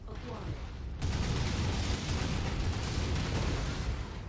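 Missiles fire and explode in a video game as a dense, roaring wash of blasts and rumble that surges up suddenly and holds loud and continuous for several seconds.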